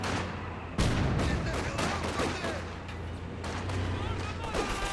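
Mortar and other weapon fire in a Company of Heroes 2 2v2 match thunders as a dense, continuous barrage of booms and crackling blasts, while a commentator talks over it.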